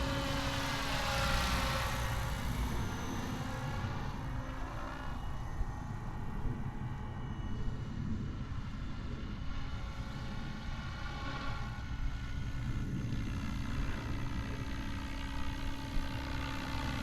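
A small aircraft hovers with a continuous, even whirring drone that stays steady and moderately distant throughout, with no voices.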